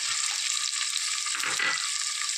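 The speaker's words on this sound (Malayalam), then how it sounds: "ഇതും കൂടെ ചേർത്ത് നന്നായിട്ടൊന്ന് ഇളക്കുക" Curry leaves and chopped onion sauté in a pan for a stingray fish curry, a bright continuous sizzle with a few low thumps and scrapes of stirring near the middle, close up and without speech.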